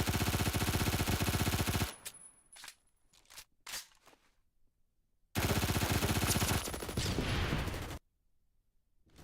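An MG42 machine gun in Phantom Forces fires two long, loud, continuous bursts with a very rapid rate, separated by a few seconds of scattered single shots and near silence.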